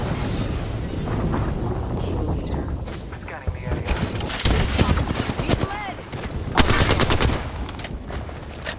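Video game gunfire crackles in scattered bursts and sharp volleys, with a grenade-like boom among them, over a steady rumbling background, while voices talk throughout.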